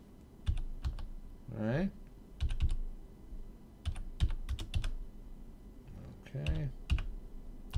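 Quick bursts of clicking keys on a computer keyboard as a credit card number is entered, close and fairly quiet, with someone speaking briefly in between the typing runs.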